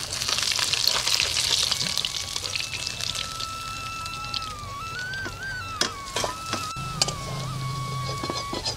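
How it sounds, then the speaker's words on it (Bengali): Kalbaush fish fries in hot oil with a steady crackling sizzle, sharp clinks and scrapes over it, and a faint whistling tone in the background. "মাছটা আমার ভাজা হয়ে গেছে, এটা আমি নামিয়ে নেব।"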